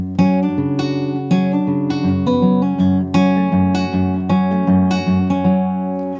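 A finger-picked acoustic guitar in drop D tuning with a capo plays the opening line of a song, a steady flow of plucked notes over a ringing low bass, close and clear with no talking.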